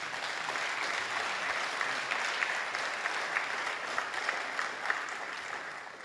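An audience at an official launch of a patients' bill of rights gives sustained, even applause, a dense crowd clapping with a few louder claps standing out, and it holds steady throughout.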